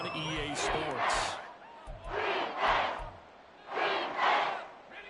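Crowd in an EA Sports football video game roars in three rising swells, a loud surge at the start, another mid-way and a third near the end, with low thumps underneath.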